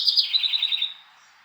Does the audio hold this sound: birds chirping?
yes